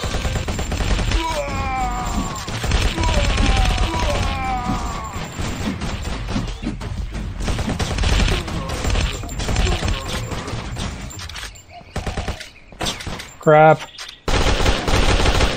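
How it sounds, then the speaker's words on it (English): Rapid bursts of Tommy gun fire tear through zombies in the game ZIC: Zombies In City. The rattling volleys are loud and close and repeat throughout, with brief pauses between them, while someone talks and exclaims over the shooting. "the Tommy gun does good against those"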